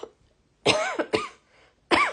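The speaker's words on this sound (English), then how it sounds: "Just made myself cough by gasping." Three harsh, raspy coughs from someone close by, separated by short pauses, with no talking around them.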